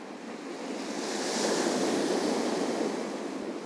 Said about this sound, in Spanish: Aprecio el sonido de las olas del mar.